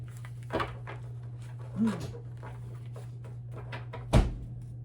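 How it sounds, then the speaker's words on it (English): A garage door banging in strong wind: a few separate dull thumps and knocks, the loudest and sharpest near the end, heard close against a steady low hum with no talking. "That was my door to my garage. If it's really windy, sometimes it will bang."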